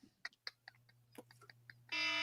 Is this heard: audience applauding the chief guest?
no